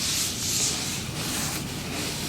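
Oil being rubbed across a hot Blackstone griddle surface and around its edges during seasoning, a steady close scraping-rub hiss that holds evenly throughout, with no voices.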